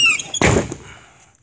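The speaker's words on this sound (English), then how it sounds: "So, if I slam this door shut," A school bus door slams shut once, a single loud close thud with a brief metallic squeak and rattle, then fading quiet; a faint voice is heard before it.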